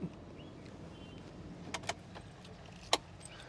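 Keys jangle with a few faint, brief clicks as the key is switched on in a used Mitsubishi Pajero 4x2 automatic with about 33,000 km, set against a quiet low rumble.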